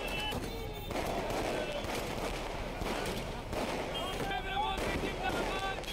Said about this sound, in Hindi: ये देखिए आतिशबाजी